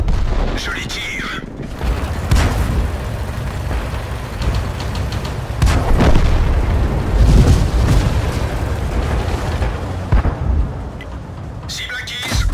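Gunfire and explosions fill a war video game battle, with booms and bursts of shots rumbling throughout, while players talk over the combat.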